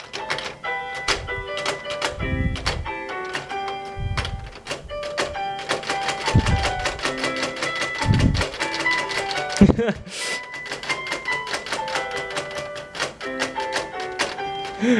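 A button on a LEGO Grand Piano set is spammed rapidly, producing a dense run of bright piano notes and plastic clicks over about fifteen seconds.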